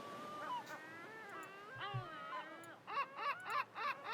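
Several nasal quacking bird calls in a video game, first scattered then in a quick run of repeated quacks, fairly close over a quiet background.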